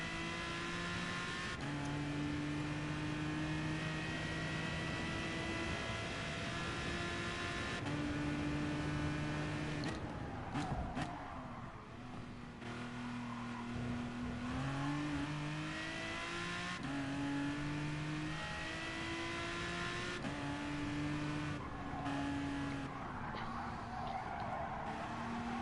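A race car engine in a BTCC racing video game holds steady revving tones through a lap, rising and falling with gear changes and faint tyre scrubbing. It is heard alone, without talk.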